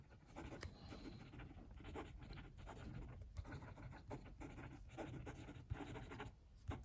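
The stainless steel nib of a Lamy 2000 extra fine fountain pen scratches quickly across paper in close, faint strokes, a fast run of rustling writing with brief pauses between words; no talking.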